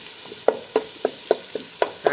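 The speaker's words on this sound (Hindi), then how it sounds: "1 से 2 मिनट तक इसको भून लेंगे" Masala fries in a pot for Lahori egg chana, a low sizzle broken by a spoon scraping and knocking against the pot in regular strokes, about one every quarter second.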